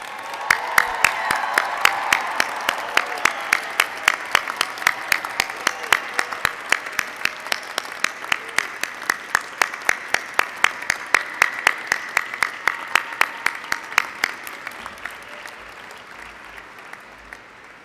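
Sustained applause from a large audience at a university graduation commencement ceremony, steady dense clapping across the whole stretch that tapers off toward the end.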